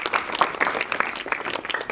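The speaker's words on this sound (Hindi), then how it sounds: "सब बार तालियां बजाओगे।" A group at a character-building and self-defense training camp applauds, a brief dense patter of many hands clapping at moderate loudness.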